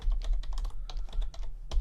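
Computer keys clatter in quick, irregular bursts, a close run of typing with short pauses between keystroke clusters.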